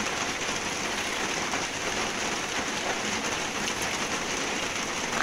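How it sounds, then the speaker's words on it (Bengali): Rainwater from a heavy downpour rushes and drains away in a continuous, fairly loud, even wash of water, with no voices heard. "দেখো গাইস, ওই যে ওদিক দিয়ে সব ওগুলো জল যাচ্ছে, দেখো কি হারে জল যাচ্ছে।"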